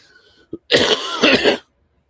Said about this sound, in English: Oh, I got that little bit of a cough that's going.